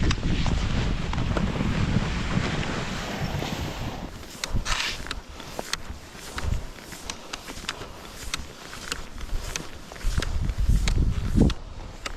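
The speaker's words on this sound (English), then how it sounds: "the wind is pushing the snow pretty good out there across the lake" Strong wind sweeps loose snow across an open frozen lake on a cold winter night in the Sylvania Wilderness, roaring steadily against the microphone with occasional gusts and crunching steps.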